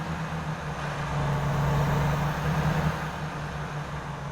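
A Volvo VNL truck engine in American Truck Simulator rumbles steadily at close range, its low drone rising slightly in pitch and level as it revs, then easing back, with no talk.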